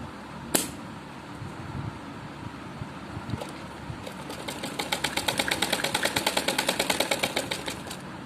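An electric sewing machine stitches a suit, starting with scattered clicks and handling noises before settling into a fast, even run of needle strokes that grows louder and steadier toward the end.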